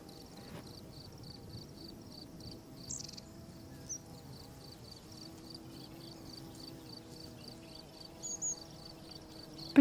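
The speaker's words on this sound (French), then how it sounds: "Toujours les cris-cris." Crickets chirping outdoors in rural farmland, a quiet, continuous high-pitched trill pulsing steadily, with a faint low hum and an occasional soft bird chirp in the background.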